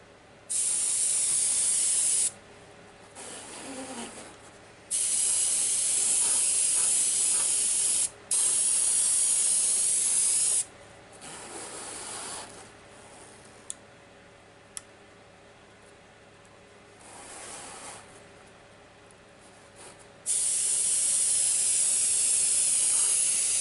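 Aerosol spray paint puts a light weathering coat on an SD70 model locomotive, heard as several loud, steady hissing bursts of a few seconds each, separated by quieter pauses with faint clicks.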